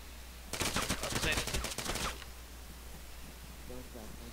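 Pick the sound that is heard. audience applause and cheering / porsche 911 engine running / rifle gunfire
rifle gunfire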